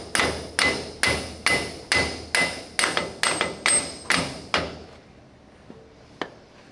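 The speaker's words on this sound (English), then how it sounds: "I've got my big hammer." A big hammer strikes metal about ten times in a steady, loud rhythm while driving a part through a bearing during a Panzer I tank restoration in a workshop, then the blows stop, leaving near silence.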